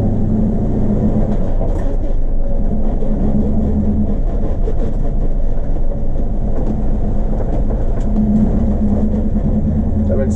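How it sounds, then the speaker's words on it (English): A 1952 Ford F1 truck cruises in third gear at about 50 mph, its low engine drone and road rumble steady and loud throughout, with a brief shift-like change near the start. "So I'm doing 50 right now in third gear, and I'm not even up there in RPMs yet."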